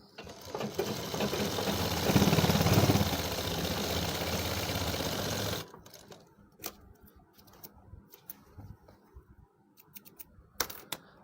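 A sewing machine stitches the zip fly on a pair of trousers: a fast, steady mechanical whir runs for about five seconds, then stops, followed by quiet handling clicks and rustles.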